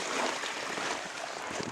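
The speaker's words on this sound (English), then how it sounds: "This is Pioneer Creek," Pioneer Creek flows beside an airstrip in a steady, close broadband wash with soft gurgling texture, no talking.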